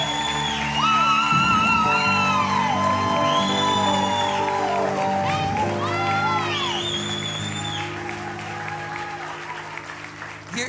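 Crowd at a live gathering clapping and shouting, loud sustained applause with whoops and yells, an amplified voice heard over it, gradually fading.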